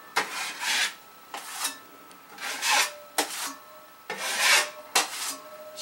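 A drywall compound knife spreads joint compound over a wall patch, giving repeated rasping scrapes in bursts of about half a second, roughly two per second with brief pauses, close and clear.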